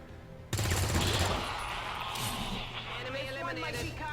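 Gunfire from an XCOM 2 squad member firing on an enemy wrecker in the turn-based strategy game: a sudden loud shot burst, then ringing battle effects and ambient game sound trailing off.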